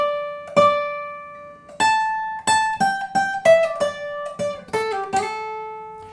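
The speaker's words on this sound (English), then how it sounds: "And we'll do it on the acoustic guitar." An acoustic guitar picks out the plain notes of a slide lick, single plucked tones ringing in an uneven phrase that quickens toward the end, close and clear with no talking.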